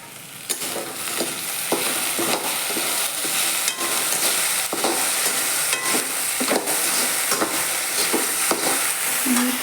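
Potatoes frying in a pan for sabudana khichdi in a home kitchen, a close, continuous sizzle and hiss broken by repeated clinks and scrapes of stirring. No one speaks.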